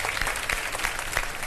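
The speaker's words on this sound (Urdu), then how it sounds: "ان کے لیے ذرا پھر ہو جائیں ایک بار تالیاں زور سے" A studio audience at a live Ramadan iftar broadcast claps loudly and steadily, a dense continuous wall of applause with no talk over it.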